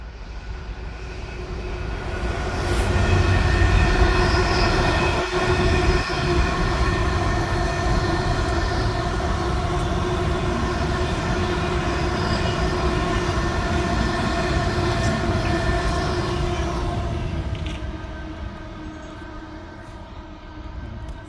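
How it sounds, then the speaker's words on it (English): A Class 66 diesel locomotive, 66303, hauls an engineering train past on a Northern England line, its engine drone and wagon rumble building, holding steady for many seconds, then fading as it moves away. "66303 heading south with an engineering train."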